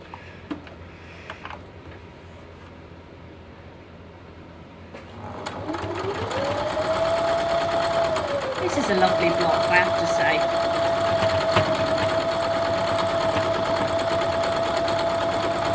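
A sewing machine stitching a Dutchman's Puzzle quilt block starts up after a few quiet seconds and then runs as a loud, steady whir that holds to the end, with a brief speed change partway through.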